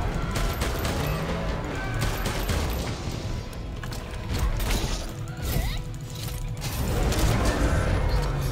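Weapon reloading and firing in Monster Hunter World: dense metallic clacks and ratcheting mechanisms mixed with sharp gunshot bursts, loud and busy throughout, with no talking.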